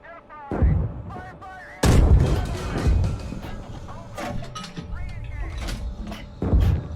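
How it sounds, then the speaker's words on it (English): A tank main gun fires a HEAT round in the game Gunner Heat, with heavy booming blasts, mechanical clanks and creaks of the turret, loud and close. "That means fire what's in the gun and then followed up with a heat round."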